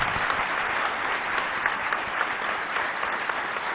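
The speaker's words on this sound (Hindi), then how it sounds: "इनके लिए थोड़ी जोरदार तालियां बजनी" Steady, dense applause from an audience at the India News Manch Gaurav award ceremony, continuous and fairly loud throughout with no talking over it.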